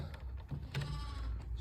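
A sheep bleats faintly in a farmyard with livestock, a short wavering call rising out of a low, steady background hum, with no voices.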